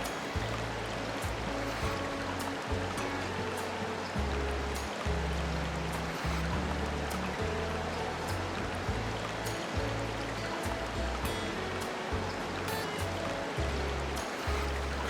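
A river at a nature sanctuary flows steadily, a continuous close rushing and gurgling of water with low churning pulses and scattered splashes, heard alone without voices.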